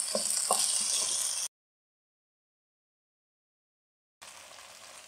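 Chicken vegetable spaghetti mixture cooking in a pan: a faint, steady sizzle with a few soft stirring knocks, broken by a silent gap before the frying hiss returns.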